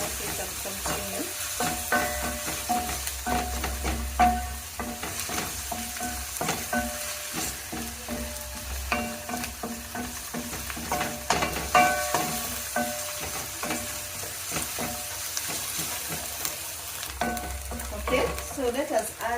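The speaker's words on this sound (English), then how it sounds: "So we're going to wait for the onion to cook so that we can continue." Onions cooking in a pot as the base of a broiler chicken stew, a soft continuous sizzle with frequent light stirring scrapes and clinks, fairly faint and with no talking.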